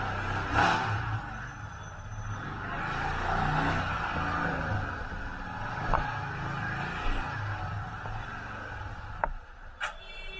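Royal Enfield motorcycles pulling away at the start of a group ride near Lataguri, engine drone and passing vehicle noise filling the scene continuously, with a few sharp knocks near the end.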